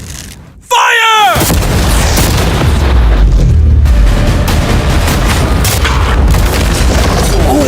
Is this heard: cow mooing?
no